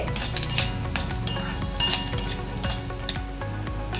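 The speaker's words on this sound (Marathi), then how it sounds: "हे बघा आता शेंगदाणे फटफटायला लागले आहेत आता हे आपल्याला चांगले फटायचे थांबेपर्यंत भाजून घ्यायचे" Peanuts dry-roasting in a pan for Diwali chivda, with scattered sharp crackles and pops alongside clinks of a spatula against metal, close and fairly loud.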